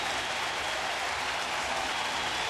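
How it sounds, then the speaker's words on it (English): A big baseball stadium crowd applauds in a standing ovation at a Yankees game, a dense, even roar of clapping that holds steady throughout with no voices on top. "How about this crowd? They gave him a standing ovation."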